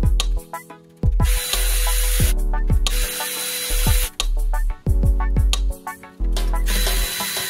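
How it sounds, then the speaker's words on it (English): Ratchet wrench removing 10mm valve cover bolts on an eighth-generation Honda Civic: loud, close bursts of rapid ratchet clicking, repeated in several runs separated by short pauses, alone with no talk. "Now I can start removing the 8 10mm bolts holding this valve cover in place."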